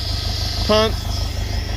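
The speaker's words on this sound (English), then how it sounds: "We finally got the tractor down here with the tank" A farm tractor's engine idles steadily close by with a low, even throb, a brief tonal whine rising over it for a moment, with no talk during the stretch.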